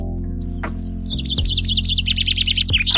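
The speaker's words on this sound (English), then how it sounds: "Birds means chiliya." Songbirds chirp loudly and close, a fast run of high repeated tweets over a steady low background hum, with no voices.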